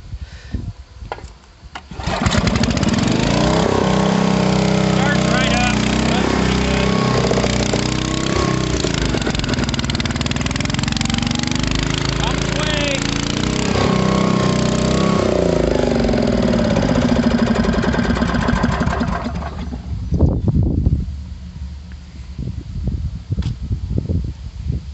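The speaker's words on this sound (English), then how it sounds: "has a generator on it to run the pump, Briggs & Stratton" A Briggs & Stratton generator engine runs steadily on a 2015 shop-built fuel trailer, powering the pump with a loud, even mechanical drone close by that holds for most of the stretch before cutting off near the end.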